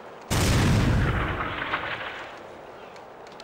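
A single heavy gunshot blast in the video game TimeSplitters: Future Perfect, loud and booming with a long decaying rumble and scattered faint sounds trailing after.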